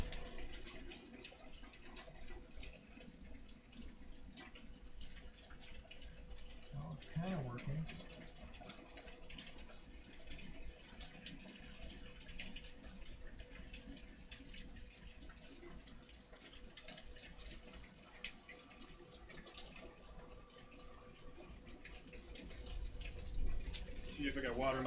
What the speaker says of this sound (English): At least you can hear all the rain in the background